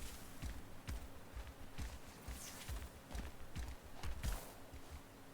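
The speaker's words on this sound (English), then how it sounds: "He sort of sounds more like a horse." Heavy running footsteps of a monster in a video game, thudding in a steady galloping rhythm like a horse's hooves, fairly close and moderately loud over a low background rumble.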